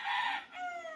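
A short turkey call, a single loud, close gobbling cry that rises then trails off in a second, heard alone with no talking.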